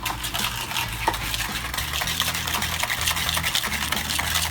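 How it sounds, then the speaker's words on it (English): Whisk scraping rapidly through a grainy sugar mixture in a bowl, a dense continuous rasping and clinking close up with a quick regular stirring rhythm. "you just want to whisk it until the sugar dissolves"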